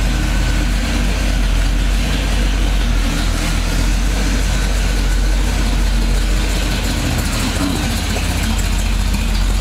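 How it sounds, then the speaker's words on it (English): A 1969 Pontiac Firebird Trans Am tribute muscle car engine idling steadily, a loud, continuous low rumble throughout with no talking. "Car sounds very, very good."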